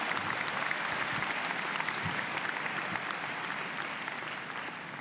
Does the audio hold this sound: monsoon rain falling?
no